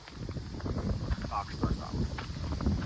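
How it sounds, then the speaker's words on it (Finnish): Strong wind buffets the microphone on a disc golf course, a steady low rumble with gusts throughout, while people talk faintly underneath. "Kova on tuuli."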